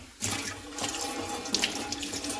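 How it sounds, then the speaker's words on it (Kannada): Tap water runs into a kitchen sink, starting abruptly after a brief quiet moment and then pouring steadily and close by, with splashing against the basin. "ಸಿಂಕಲ್ಲಿ ನೀರು ಬಿಡ್ಕೊತ ಇದ್ದೀನಿ."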